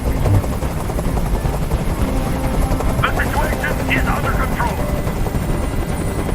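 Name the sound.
helicopter hovering, from video game Detroit: Become Human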